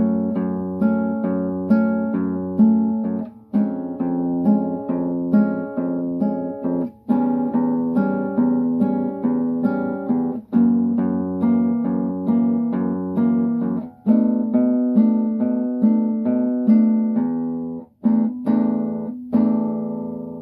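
An acoustic guitar plays the bridge into the chorus of a song, fingerpicked notes and chords ringing steadily in a close, quiet room, with no voice.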